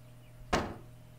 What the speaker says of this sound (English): Let's hold E to load. So we're going to wind it back. And then press E to fire.